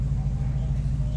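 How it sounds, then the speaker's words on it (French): A Chrysler V8 at idle gives a low, steady, muffled exhaust burble, heard faintly from a quiet cabin at a classic car show with no voices over it. "Le V8 là-dessus, il est extrêmement discret. On entend le petit glou glou glou glou glou à l'échappement."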